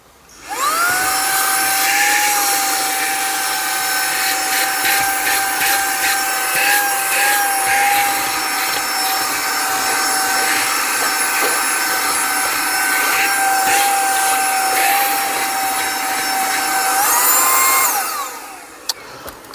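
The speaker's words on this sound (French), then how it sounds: "on va voir déjà si ce petit aspirateur en vitesse simple va me permettre" A small cordless handheld vacuum cleaner, a 2-in-1 vacuum and blower, whirs steadily at single speed with a high, even whine for most of the clip, then winds down near the end.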